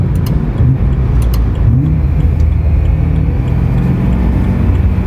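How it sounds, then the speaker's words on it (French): A BMW M3 V8 at full throttle on the Nürburgring: a loud, dense in-car engine roar with rumbling road noise, the pitch holding high and hard, broken by brief jolts at the gear changes. "C'est brutal quand elle change de rapport, elle met un sacré à coup"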